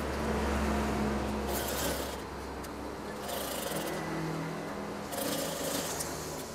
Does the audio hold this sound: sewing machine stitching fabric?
yes